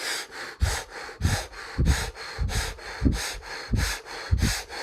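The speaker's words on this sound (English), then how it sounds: "Listen to me fire breathing, and fire breathe with me." Rapid, forceful rhythmic breathing exercise during a guided energy healing meditation, with sharp nasal exhalations and inhalations repeating about every half second, close and loud, with no talking.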